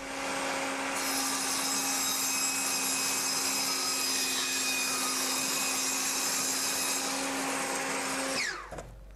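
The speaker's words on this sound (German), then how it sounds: "Und damit fahren wir jetzt einfach dort im Sägeblatt entlang." A circular saw whines steadily at high pitch for several seconds, cutting wood continuously, then winds down abruptly near the end.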